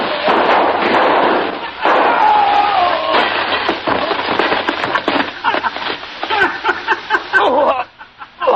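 Gunshots shattering mirrors in a carnival hall of mirrors in a radio noir drama: dense bursts of shots and breaking glass crowd together loudly, with voices and crowd noise mixed in.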